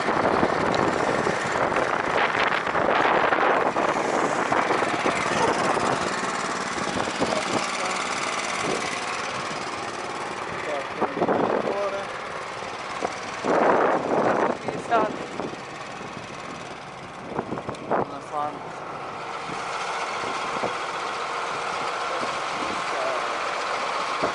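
A John Deere 8310R tractor drones steadily while spraying a corn field, a continuous engine rumble with a mechanical whine that stays constant throughout, and people talk over it at intervals.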